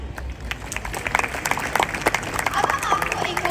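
Audience at a school Hindi Week event clapping after a dance performance, a dense burst of applause growing louder toward the end, with a voice heard over it.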